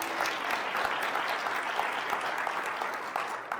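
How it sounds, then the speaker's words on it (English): Audience applause at a State of Education event in Montgomery County, a dense, steady burst of clapping from a crowd, fairly close and alone without speech. "So let's give Dr. Edelstein a round of applause."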